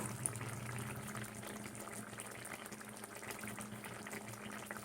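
Butter paneer curry simmers gently in a pan, a soft continuous bubbling and popping that stays faint and steady throughout with no voices.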